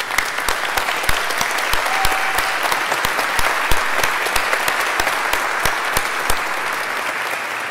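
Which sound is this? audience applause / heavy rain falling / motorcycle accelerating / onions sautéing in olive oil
audience applause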